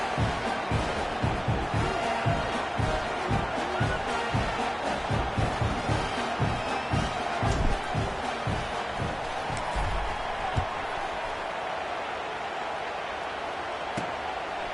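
Stadium crowd noise in the NCAA 26 college football video game, a steady dense roar of many voices with rhythmic chant-like pulses early on, continuous and fairly loud throughout, settling slightly toward the end.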